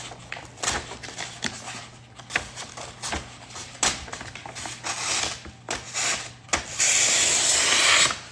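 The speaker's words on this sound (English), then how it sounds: "you can hear how my scissors, like, aren't working." Scissors that are not cutting smoothly snip and scrape through wrapping paper in uneven strokes, rough rasping cuts close by, ending in a longer harsh scraping rub.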